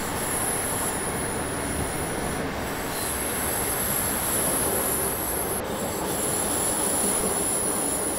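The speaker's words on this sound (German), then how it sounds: "ihr hört ja dieses Quietschen, wenn der Zug sich in die Kurve legt" A BR 423 electric multiple unit in Train Simulator squeals steadily as its wheels grind through a curve, a loud continuous high-pitched screech over rumbling rail noise, with no voices.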